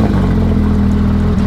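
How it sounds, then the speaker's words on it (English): A 2020 Porsche 911 fitted with an AWE aftermarket exhaust revs loudly up close, a steady deep engine drone with a brief dip near the end, alone with no talk. "you haven't heard my car. AWE hooked it up with an exhaust"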